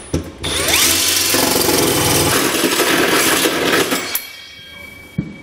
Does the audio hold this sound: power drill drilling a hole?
yes